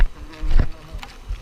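Honey bees buzz around a full beehive box, with close, uneven droning swells as insects pass near.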